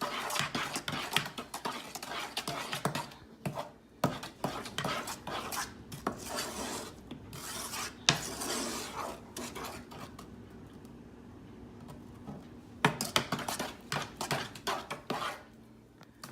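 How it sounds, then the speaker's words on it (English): Butter melting in a pot for cake batter fudge, stirred with a utensil that scrapes and clinks against the metal in irregular bursts, close and moderately loud with quieter pauses between. "So you want to make sure you stir it."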